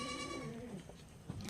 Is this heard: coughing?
no